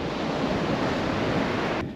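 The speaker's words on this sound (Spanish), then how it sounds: "Qué hermoso está ese mar." Sea surf on the beach between Valizas and Cabo Polonio, Uruguay, forms a loud, steady roar of breaking waves mixed with wind buffeting the microphone, with no speech, ending in a slight drop.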